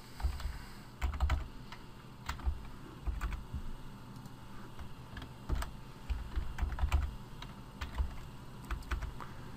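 Keys clatter on a computer keyboard as a password with capital letters and numbers is typed during a Windows XP Embedded POS Ready install, irregular bursts of close taps with short pauses.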